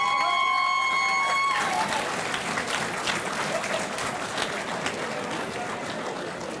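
A crowd at the 2015 Manitoba Softball Hall of Fame induction ceremony breaks into steady applause and cheering for an inductee, following a brief tonal sound at the start, and the clapping continues evenly to the end.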